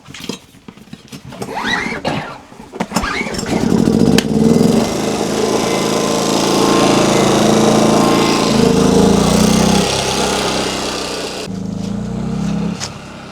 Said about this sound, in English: We need to fire up this generator because we need to power up our power stations.